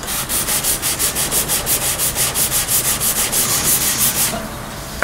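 Used 400-grit sandpaper rubbed over an old guitar's finish in quick, even back-and-forth strokes, about four per second, close and steady, then stopping near the end.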